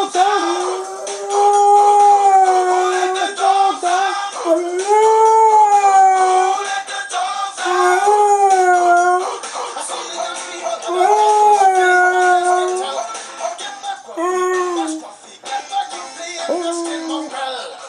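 A dog howls in long, wavering tones over loud, continuous music, rising and falling in pitch as if singing along.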